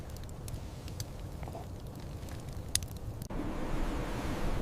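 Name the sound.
wind outdoors in Patagonia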